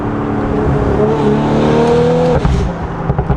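Close by, an Audi S5 running a Valvetronic Designs valved sport exhaust and downpipe idles and revs up briefly, pitch climbing then falling away with a few crackling pops near the end.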